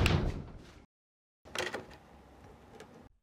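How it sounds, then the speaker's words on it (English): Two short bursts of door sounds pulled from a sound effects library, each separated by a clean silent gap, close and clear with no voices present. "If I search for door, check out all the results I get."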